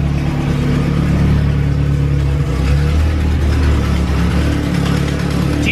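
A Mustang chassis dyno holds a car whose engine drones at a steady, loud mid-range roar, revving gently with little change in pitch, alone with no talk.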